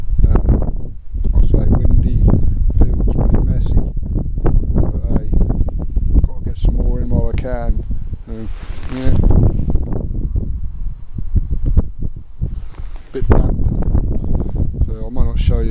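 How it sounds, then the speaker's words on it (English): Wind buffets the microphone in an open field on a cold, sunny spring day with a constant low rumble and gusty roar, underneath a person talking throughout. "sorry about the wind"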